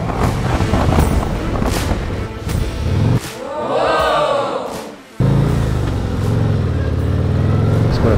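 A 2024 Harley-Davidson touring motorcycle, a Street Glide or Road Glide, pulls away after its hill-hold releases. The engine note is loud and close and rises and falls through the clip, with a brief dip partway through before it surges back.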